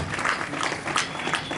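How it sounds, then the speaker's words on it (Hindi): An audience applauding at an NCC Day event, a brief burst of thick continuous clapping at a steady level, with faint voices mixed in. "जोरदार तालियों से स्वागत करें।"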